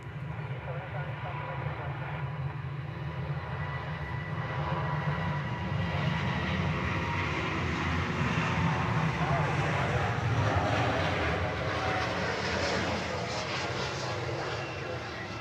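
Boeing 787 jet departing from Honolulu airport, a steady broad roar of engines building slightly toward the middle and holding loud to the end, with faint radio-style talk mixed underneath.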